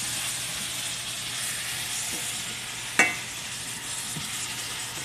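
Apples fry over medium heat in a steady, close sizzle with a soft stirring scrape, broken midway by one sharp clink of a utensil against the pan.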